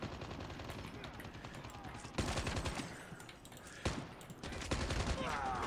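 Rapid automatic gunfire from the mobile game Call of Duty Mobile rattles in dense bursts, with sharp louder volleys near the two- and four-second marks, all fairly quiet in the mix.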